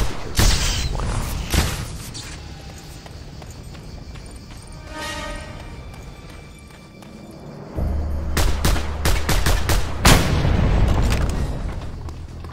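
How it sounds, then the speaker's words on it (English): Pistol gunfire in the video game Just Cause 2: several sharp, loud shots and booms scattered over the clip, with a quieter stretch between them and a denser run of impacts toward the end, without speech. "Fire my pistol because, why not?"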